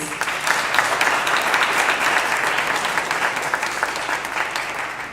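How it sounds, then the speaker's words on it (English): Steady, full applause from an audience at a robotics awards ceremony in Zimbabwe, a dense wash of many clapping hands sustained close and even throughout. "give them a round of applause"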